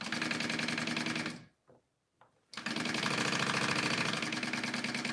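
A sewing machine runs at a fast, steady buzzing whir while base stitching a leather wallet, stopping briefly for about a second before starting again at full speed; close and loud, no talking.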